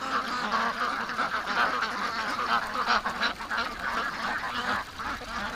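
A flock of ducks quacks continuously in a muddy yard, a dense overlapping chatter of quacks and honking calls at close range that keeps up steadily throughout.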